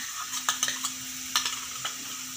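Ginger-garlic paste frying with browned onions in a pan for masala bhindi, a steady hiss of sizzling oil broken by a few spoon scrapes, close and without talk.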